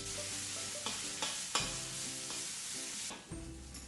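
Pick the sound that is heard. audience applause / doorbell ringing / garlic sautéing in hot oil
garlic sautéing in hot oil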